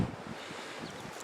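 Steady wind buffets the microphone, a soft broadband rush with low gusty rumbles and no voices.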